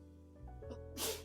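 A single sharp sneeze bursts out near the end, close and fairly loud, after a few soft movement sounds, during a quiet sketchbook drawing session.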